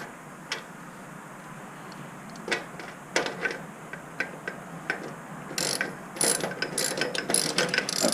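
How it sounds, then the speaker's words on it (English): A ratchet with a 1/2 inch socket tightens a carriage bolt during assembly of a U.S. General Series 2 mechanic's cart, heard as scattered close clicks that turn into a denser run of rapid ratcheting strokes near the end. "By the way, I'm using a 1/2 inch socket."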